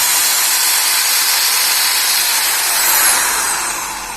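A Black & Decker 550-watt reversible hammer drill runs loud and close, its steady high whine and hiss holding on and gradually building in speed, with no talk over it.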